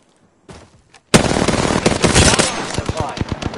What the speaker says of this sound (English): Shots fired. Getting shot at.